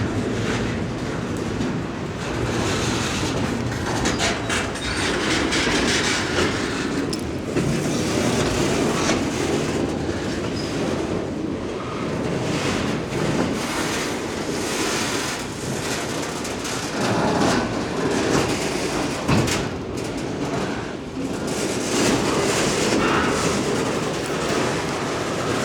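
A train rumbles steadily through a station, its wheels clattering over the rails as carriages roll by, with a constant loud mechanical roar and faint rhythmic clicks throughout.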